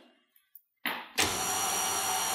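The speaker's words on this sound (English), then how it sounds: "So switch on the mixer, Holly." An electric mixer starts up in cupcake batter with an egg, a few brief knocks followed by the motor spinning up in two steps into a steady, loud whirring drone.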